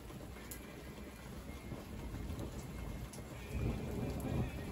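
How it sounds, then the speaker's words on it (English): Steady heavy rain pours during a thunderstorm in Big Bear, California, with a deep rumble of thunder swelling louder toward the end beneath the constant hiss. "how close the lightning bolts really are when you hear how quick the thunder comes afterwards"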